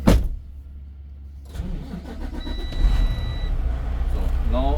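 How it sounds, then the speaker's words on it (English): A truck engine cranks briefly and catches, then settles into a steady rumbling idle close by, with a voice faintly in the background. "So now I started the truck"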